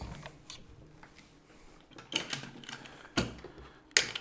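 Clamp being tightened on a wooden joint of an Arts & Crafts settee, with scattered ratcheting clicks and sharp creaks, growing louder toward two distinct snaps near the end.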